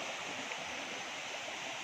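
Steady broadband rush of a river stream flowing near a waterfall at Lombok, continuous and fairly loud throughout with no voices.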